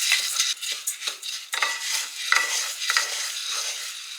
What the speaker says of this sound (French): on va venir mélanger un petit peu le riz au curcuma jusqu'à ce que le riz soit totalement enrobé d'épices